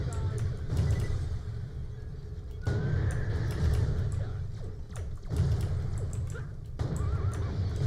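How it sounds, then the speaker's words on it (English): Repeated horse-like whinnies and neighs from a gun in a Borderlands game sound in bursts over low rumbling game noise, with clopping and mechanical clicks in between. "It's making unicorn sounds, actually, not horse sounds."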